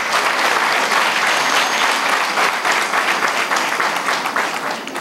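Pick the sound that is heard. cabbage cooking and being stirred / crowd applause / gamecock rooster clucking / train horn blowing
crowd applause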